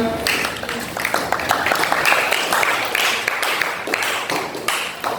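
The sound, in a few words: applause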